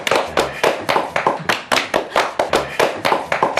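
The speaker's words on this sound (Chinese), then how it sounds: "鼓掌庆祝一下，快呀！" Several people clap together in a steady, quick rhythm of distinct hand claps, close and fairly loud, celebrating a couple finally getting together; no talking over it.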